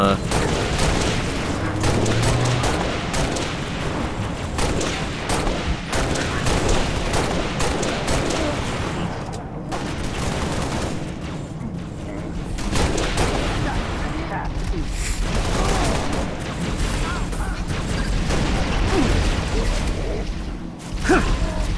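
Rapid turret gunfire rattles nearly nonstop through a Halo Reach Legendary firefight, loud and dense with booms mixed in, while someone talks over it.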